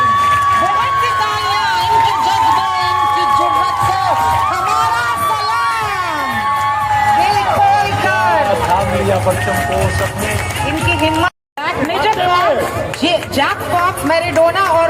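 A large crowd at a horse and cattle show in Lahore's Fortress Stadium cheers and shouts continuously, with an announcer's voice over the din and a brief dropout near the end.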